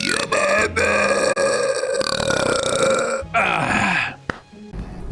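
A loud, long, rumbling burp rolls on for several seconds, close to the listener, with a brief shorter belch sound near the end.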